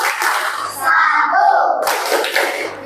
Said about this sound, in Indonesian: marilah kita tepuk tangan dulu